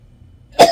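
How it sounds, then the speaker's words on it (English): A single sharp cough from a person with a lingering cold bursts out close by after a near-silent pause. "all I got left is a stupid cough."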